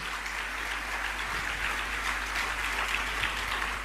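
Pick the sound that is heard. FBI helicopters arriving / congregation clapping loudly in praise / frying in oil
congregation clapping loudly in praise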